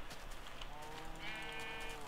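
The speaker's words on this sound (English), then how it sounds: "Hello, a sheep." A Minecraft sheep lets out a pair of drawn-out, wavering bleats, the second higher and longer, sitting near and clear over a steady low game background hum.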